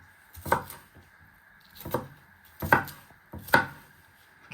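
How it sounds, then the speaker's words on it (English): A knife chops onions on a cutting board: five crisp, evenly spaced thuds, close and clear, with quiet gaps between strikes. "And then just give it one final chop."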